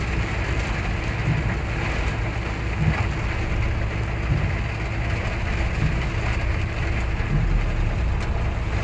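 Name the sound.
heavy rain during flooding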